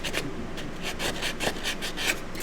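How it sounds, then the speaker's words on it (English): Sanding the sharp edge of a geode coaster gives a close, steady rasping scrub in quick repeated strokes, with no talking. "when you sand it, it gives like a white edge"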